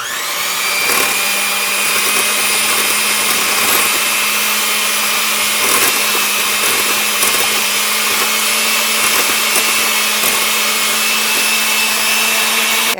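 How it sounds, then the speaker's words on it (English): An electric mixer whirring loudly and steadily as apple cake ingredients with cinnamon and brown sugar are blended, a constant close motor whine with slight grinding variations and no talk. "I'm going to mix this together."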